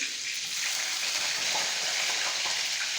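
Finely chopped garlic sizzles and fries steadily in a hot pan for a home-cooked dry vegetable dish, a dense, even crackle close up with no voices.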